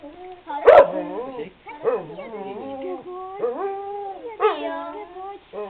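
A dog gives a loud, sharp bark followed by a string of whining, howling yelps that rise and fall in pitch, heard close up with little else around.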